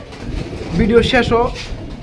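Pigeons coo softly among a pigeon collection, low throaty murmurs running steadily close by while someone talks over them.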